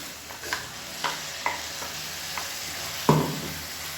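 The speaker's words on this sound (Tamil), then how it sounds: "தேங்காய் சேர்த்து நல்லா வதக்கியாச்சு." Coconut paste and broad beans sautéing in a pan, with a soft continuous sizzle broken by several scraping stirs and one louder clack near the end, close and without talk.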